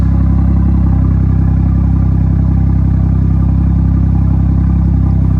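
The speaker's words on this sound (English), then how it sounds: "it's opened up both valves and it's changed the exhaust tune to give you that burble" A BMW 440i M Sport with M Performance exhaust and both valves open gives off a loud, dense, steady engine roar at close range. It holds constant for the whole stretch without distinct pops.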